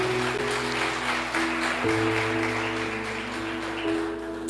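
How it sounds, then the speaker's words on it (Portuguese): A church congregation applauds at the close of a sermon, a sustained wash of clapping laid over steady held musical tones, fairly loud and continuous. "E vamos aplaudir o Senhor Jesus com alegria."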